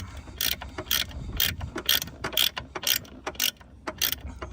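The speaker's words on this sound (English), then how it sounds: "Ratcheting wrenches save me every time." A ratcheting wrench turns a brake line fitting during a brake master cylinder replacement on a Fiero GT, giving close bursts of rapid metallic clicking in uneven strokes with brief pauses between them.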